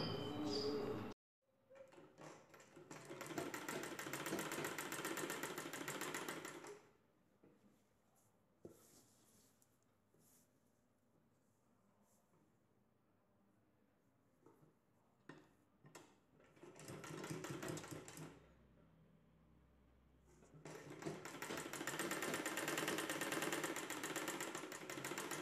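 Sewing machine stitching the shoulder seam of a nighty, three long steady bursts of rapid mechanical whirring with quiet pauses of handling and fabric rustle between them, close and loud.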